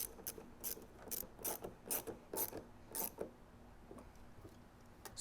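Quick ratcheting clicks of a hose clamp being tightened around a vacuum valve fitted into a hose on a Porsche 991.1 carbon fiber intake, a run of close, sharp bursts in an uneven rhythm that thin out toward the end.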